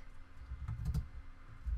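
Rapid clicks of typing on a computer keyboard, brief and close, clustered toward the middle of the stretch over a low background hum.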